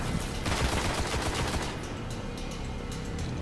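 Shotgun fire in the Destiny beta video game, a dense run of loud blasts early on that settles into steady, busy game action with no talking.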